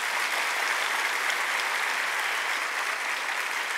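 An audience applauds the event at a Republic Day gathering, producing a dense, even wash of clapping that holds steady and loud throughout, with no break.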